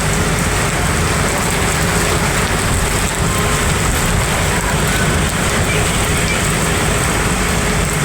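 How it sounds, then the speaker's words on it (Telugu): Summer rain falls in a Bangalore neighbourhood as a dense, steady hiss and patter on surfaces, loud and even throughout, with a low rumble beneath it. "ఇదే ఫస్ట్ టైం ఫ్రెండ్స్ వర్షం పడ్డం సమ్మర్లో బెంగళూరులో"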